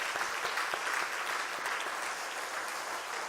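Church congregation clapping during a Sunday morning worship service, a steady, dense wash of applause from many hands that stays fairly even for about three seconds.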